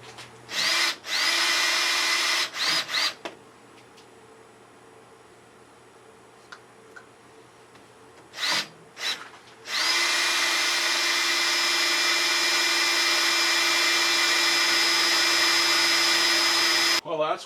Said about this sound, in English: So this is a pilot drill. It's a number 12 drill bit